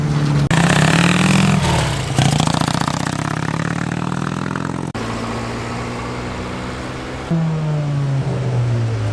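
Chevrolet Cavalier driving off at an evening car meet, its engine revving loudly and close through gear changes, with other cars' engines idling and accelerating nearby.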